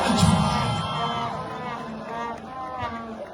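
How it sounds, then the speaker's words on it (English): A crowd cheers and applauds at a welcome-home gathering in Juba, South Sudan, for a national basketball team player, a loud, sustained hubbub with whoops and shouts throughout. "Let's give him a big round of applause."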